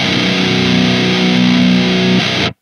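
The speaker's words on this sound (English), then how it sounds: "So the Oh My Goat is definitely one of the best distortion pedals I've ever tried." A guitar played through a Klirrton Oh My Goat distortion pedal, brutal and heavily saturated, holds one loud, dense chord for over two seconds before cutting off abruptly, with no voices.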